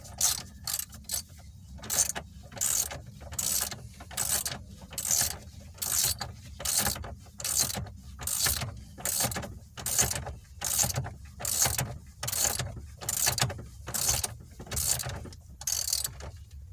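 A ratchet is tightening the steering wheel nut on a Chevy Cobalt, giving steady, rapid, evenly spaced clicking strokes close by throughout, with nobody talking.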